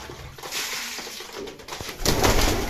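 A flock of pigeons at a farm cooing loudly and constantly, overlapping throaty coos with some wing flutter and rustle, near and swelling toward the end, no speech.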